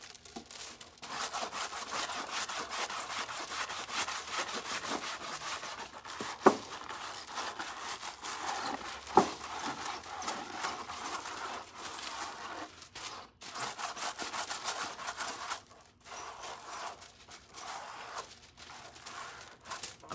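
A stiff scrub brush rubs foil onto a lampshade in a steady, scratchy scrubbing rhythm, with a couple of sharper knocks from the table jiggling, close up and without speech.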